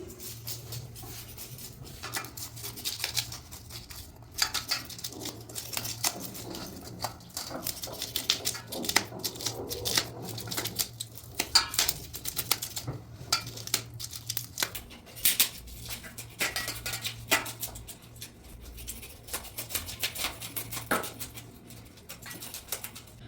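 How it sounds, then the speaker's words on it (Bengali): A hilsa fish being scaled for hilsa pulao, with steady rapid scraping and scratching strokes up close that run continuously without speech over a low background hum. "আমি মাছের প্রথমে আঁশটা ফেলে দিচ্ছি।"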